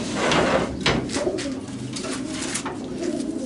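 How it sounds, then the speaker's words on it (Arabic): Nash pigeons in a loft give repeated soft, throaty coos close by, with some rustling and wing movement against a constant room hum. "دخلت حمام من بتاع النش على الحمام ده هنشوفه."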